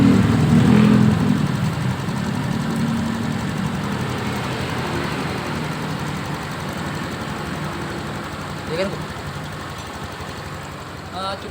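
A serviced fuel-injected motorcycle engine runs steadily throughout, a continuous close mechanical drone with a slight swell near the end and no obvious revving.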